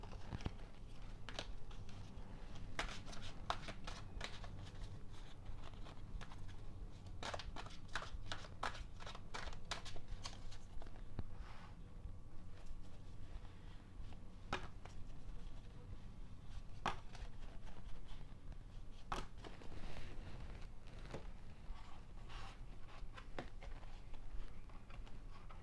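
Two tarot card decks are shuffled by hand in a steady, continuous riffling and flicking of cards at close range, with irregular bursts of crisp snaps over about twenty-five seconds and no talk.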